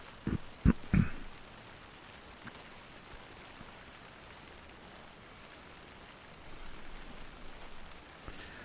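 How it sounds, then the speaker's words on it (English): Steady, soft rainfall in the video game Alan Wake 2 hisses throughout, with a few sharp knocks near the start and the rain swelling slightly toward the end. "And it's raining."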